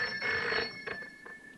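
A telephone bell rings in short bursts, fairly faint and alone, in a 1971 drama scene.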